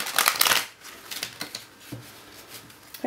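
Tarot cards are shuffled by hand in quick crisp riffling bursts, then softer shuffling and light tapping of the deck close up, with no speech.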